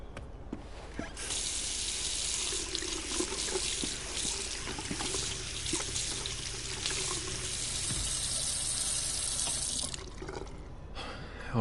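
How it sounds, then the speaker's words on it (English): A bathroom tap runs in the video game Twin Mirror while water is splashed onto a face: a steady, full, close gush of flowing water that continues for about ten seconds without pause. "get some water on the face."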